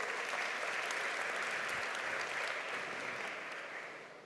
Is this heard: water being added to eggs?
no